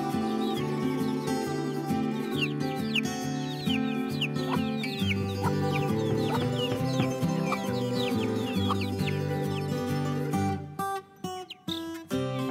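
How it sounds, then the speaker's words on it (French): Small black bantam Orpington chicks peep in high, rapid chirps while their hen clucks low and steadily beneath them, close by and continuous. "Ici on retrouve 4 poussins Orpington nains noirs"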